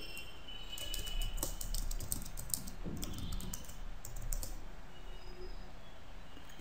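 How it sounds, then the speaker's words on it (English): A domain name and password are typed on a computer keyboard in quick, uneven bursts of light clicking keystrokes, close and fairly quiet, with no talking. "So enter the domain name here. I am entering my domain name here. And enter the password here."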